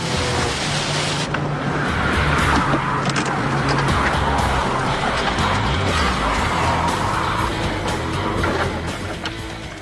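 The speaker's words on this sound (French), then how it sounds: "Une belle démonstration d'aquaplaning" A car at close to 200 km/h aquaplanes across flooded wet tarmac and spins about one and a half turns, giving a loud, continuous roar of engine and spraying water with a swirling rush throughout, without speech.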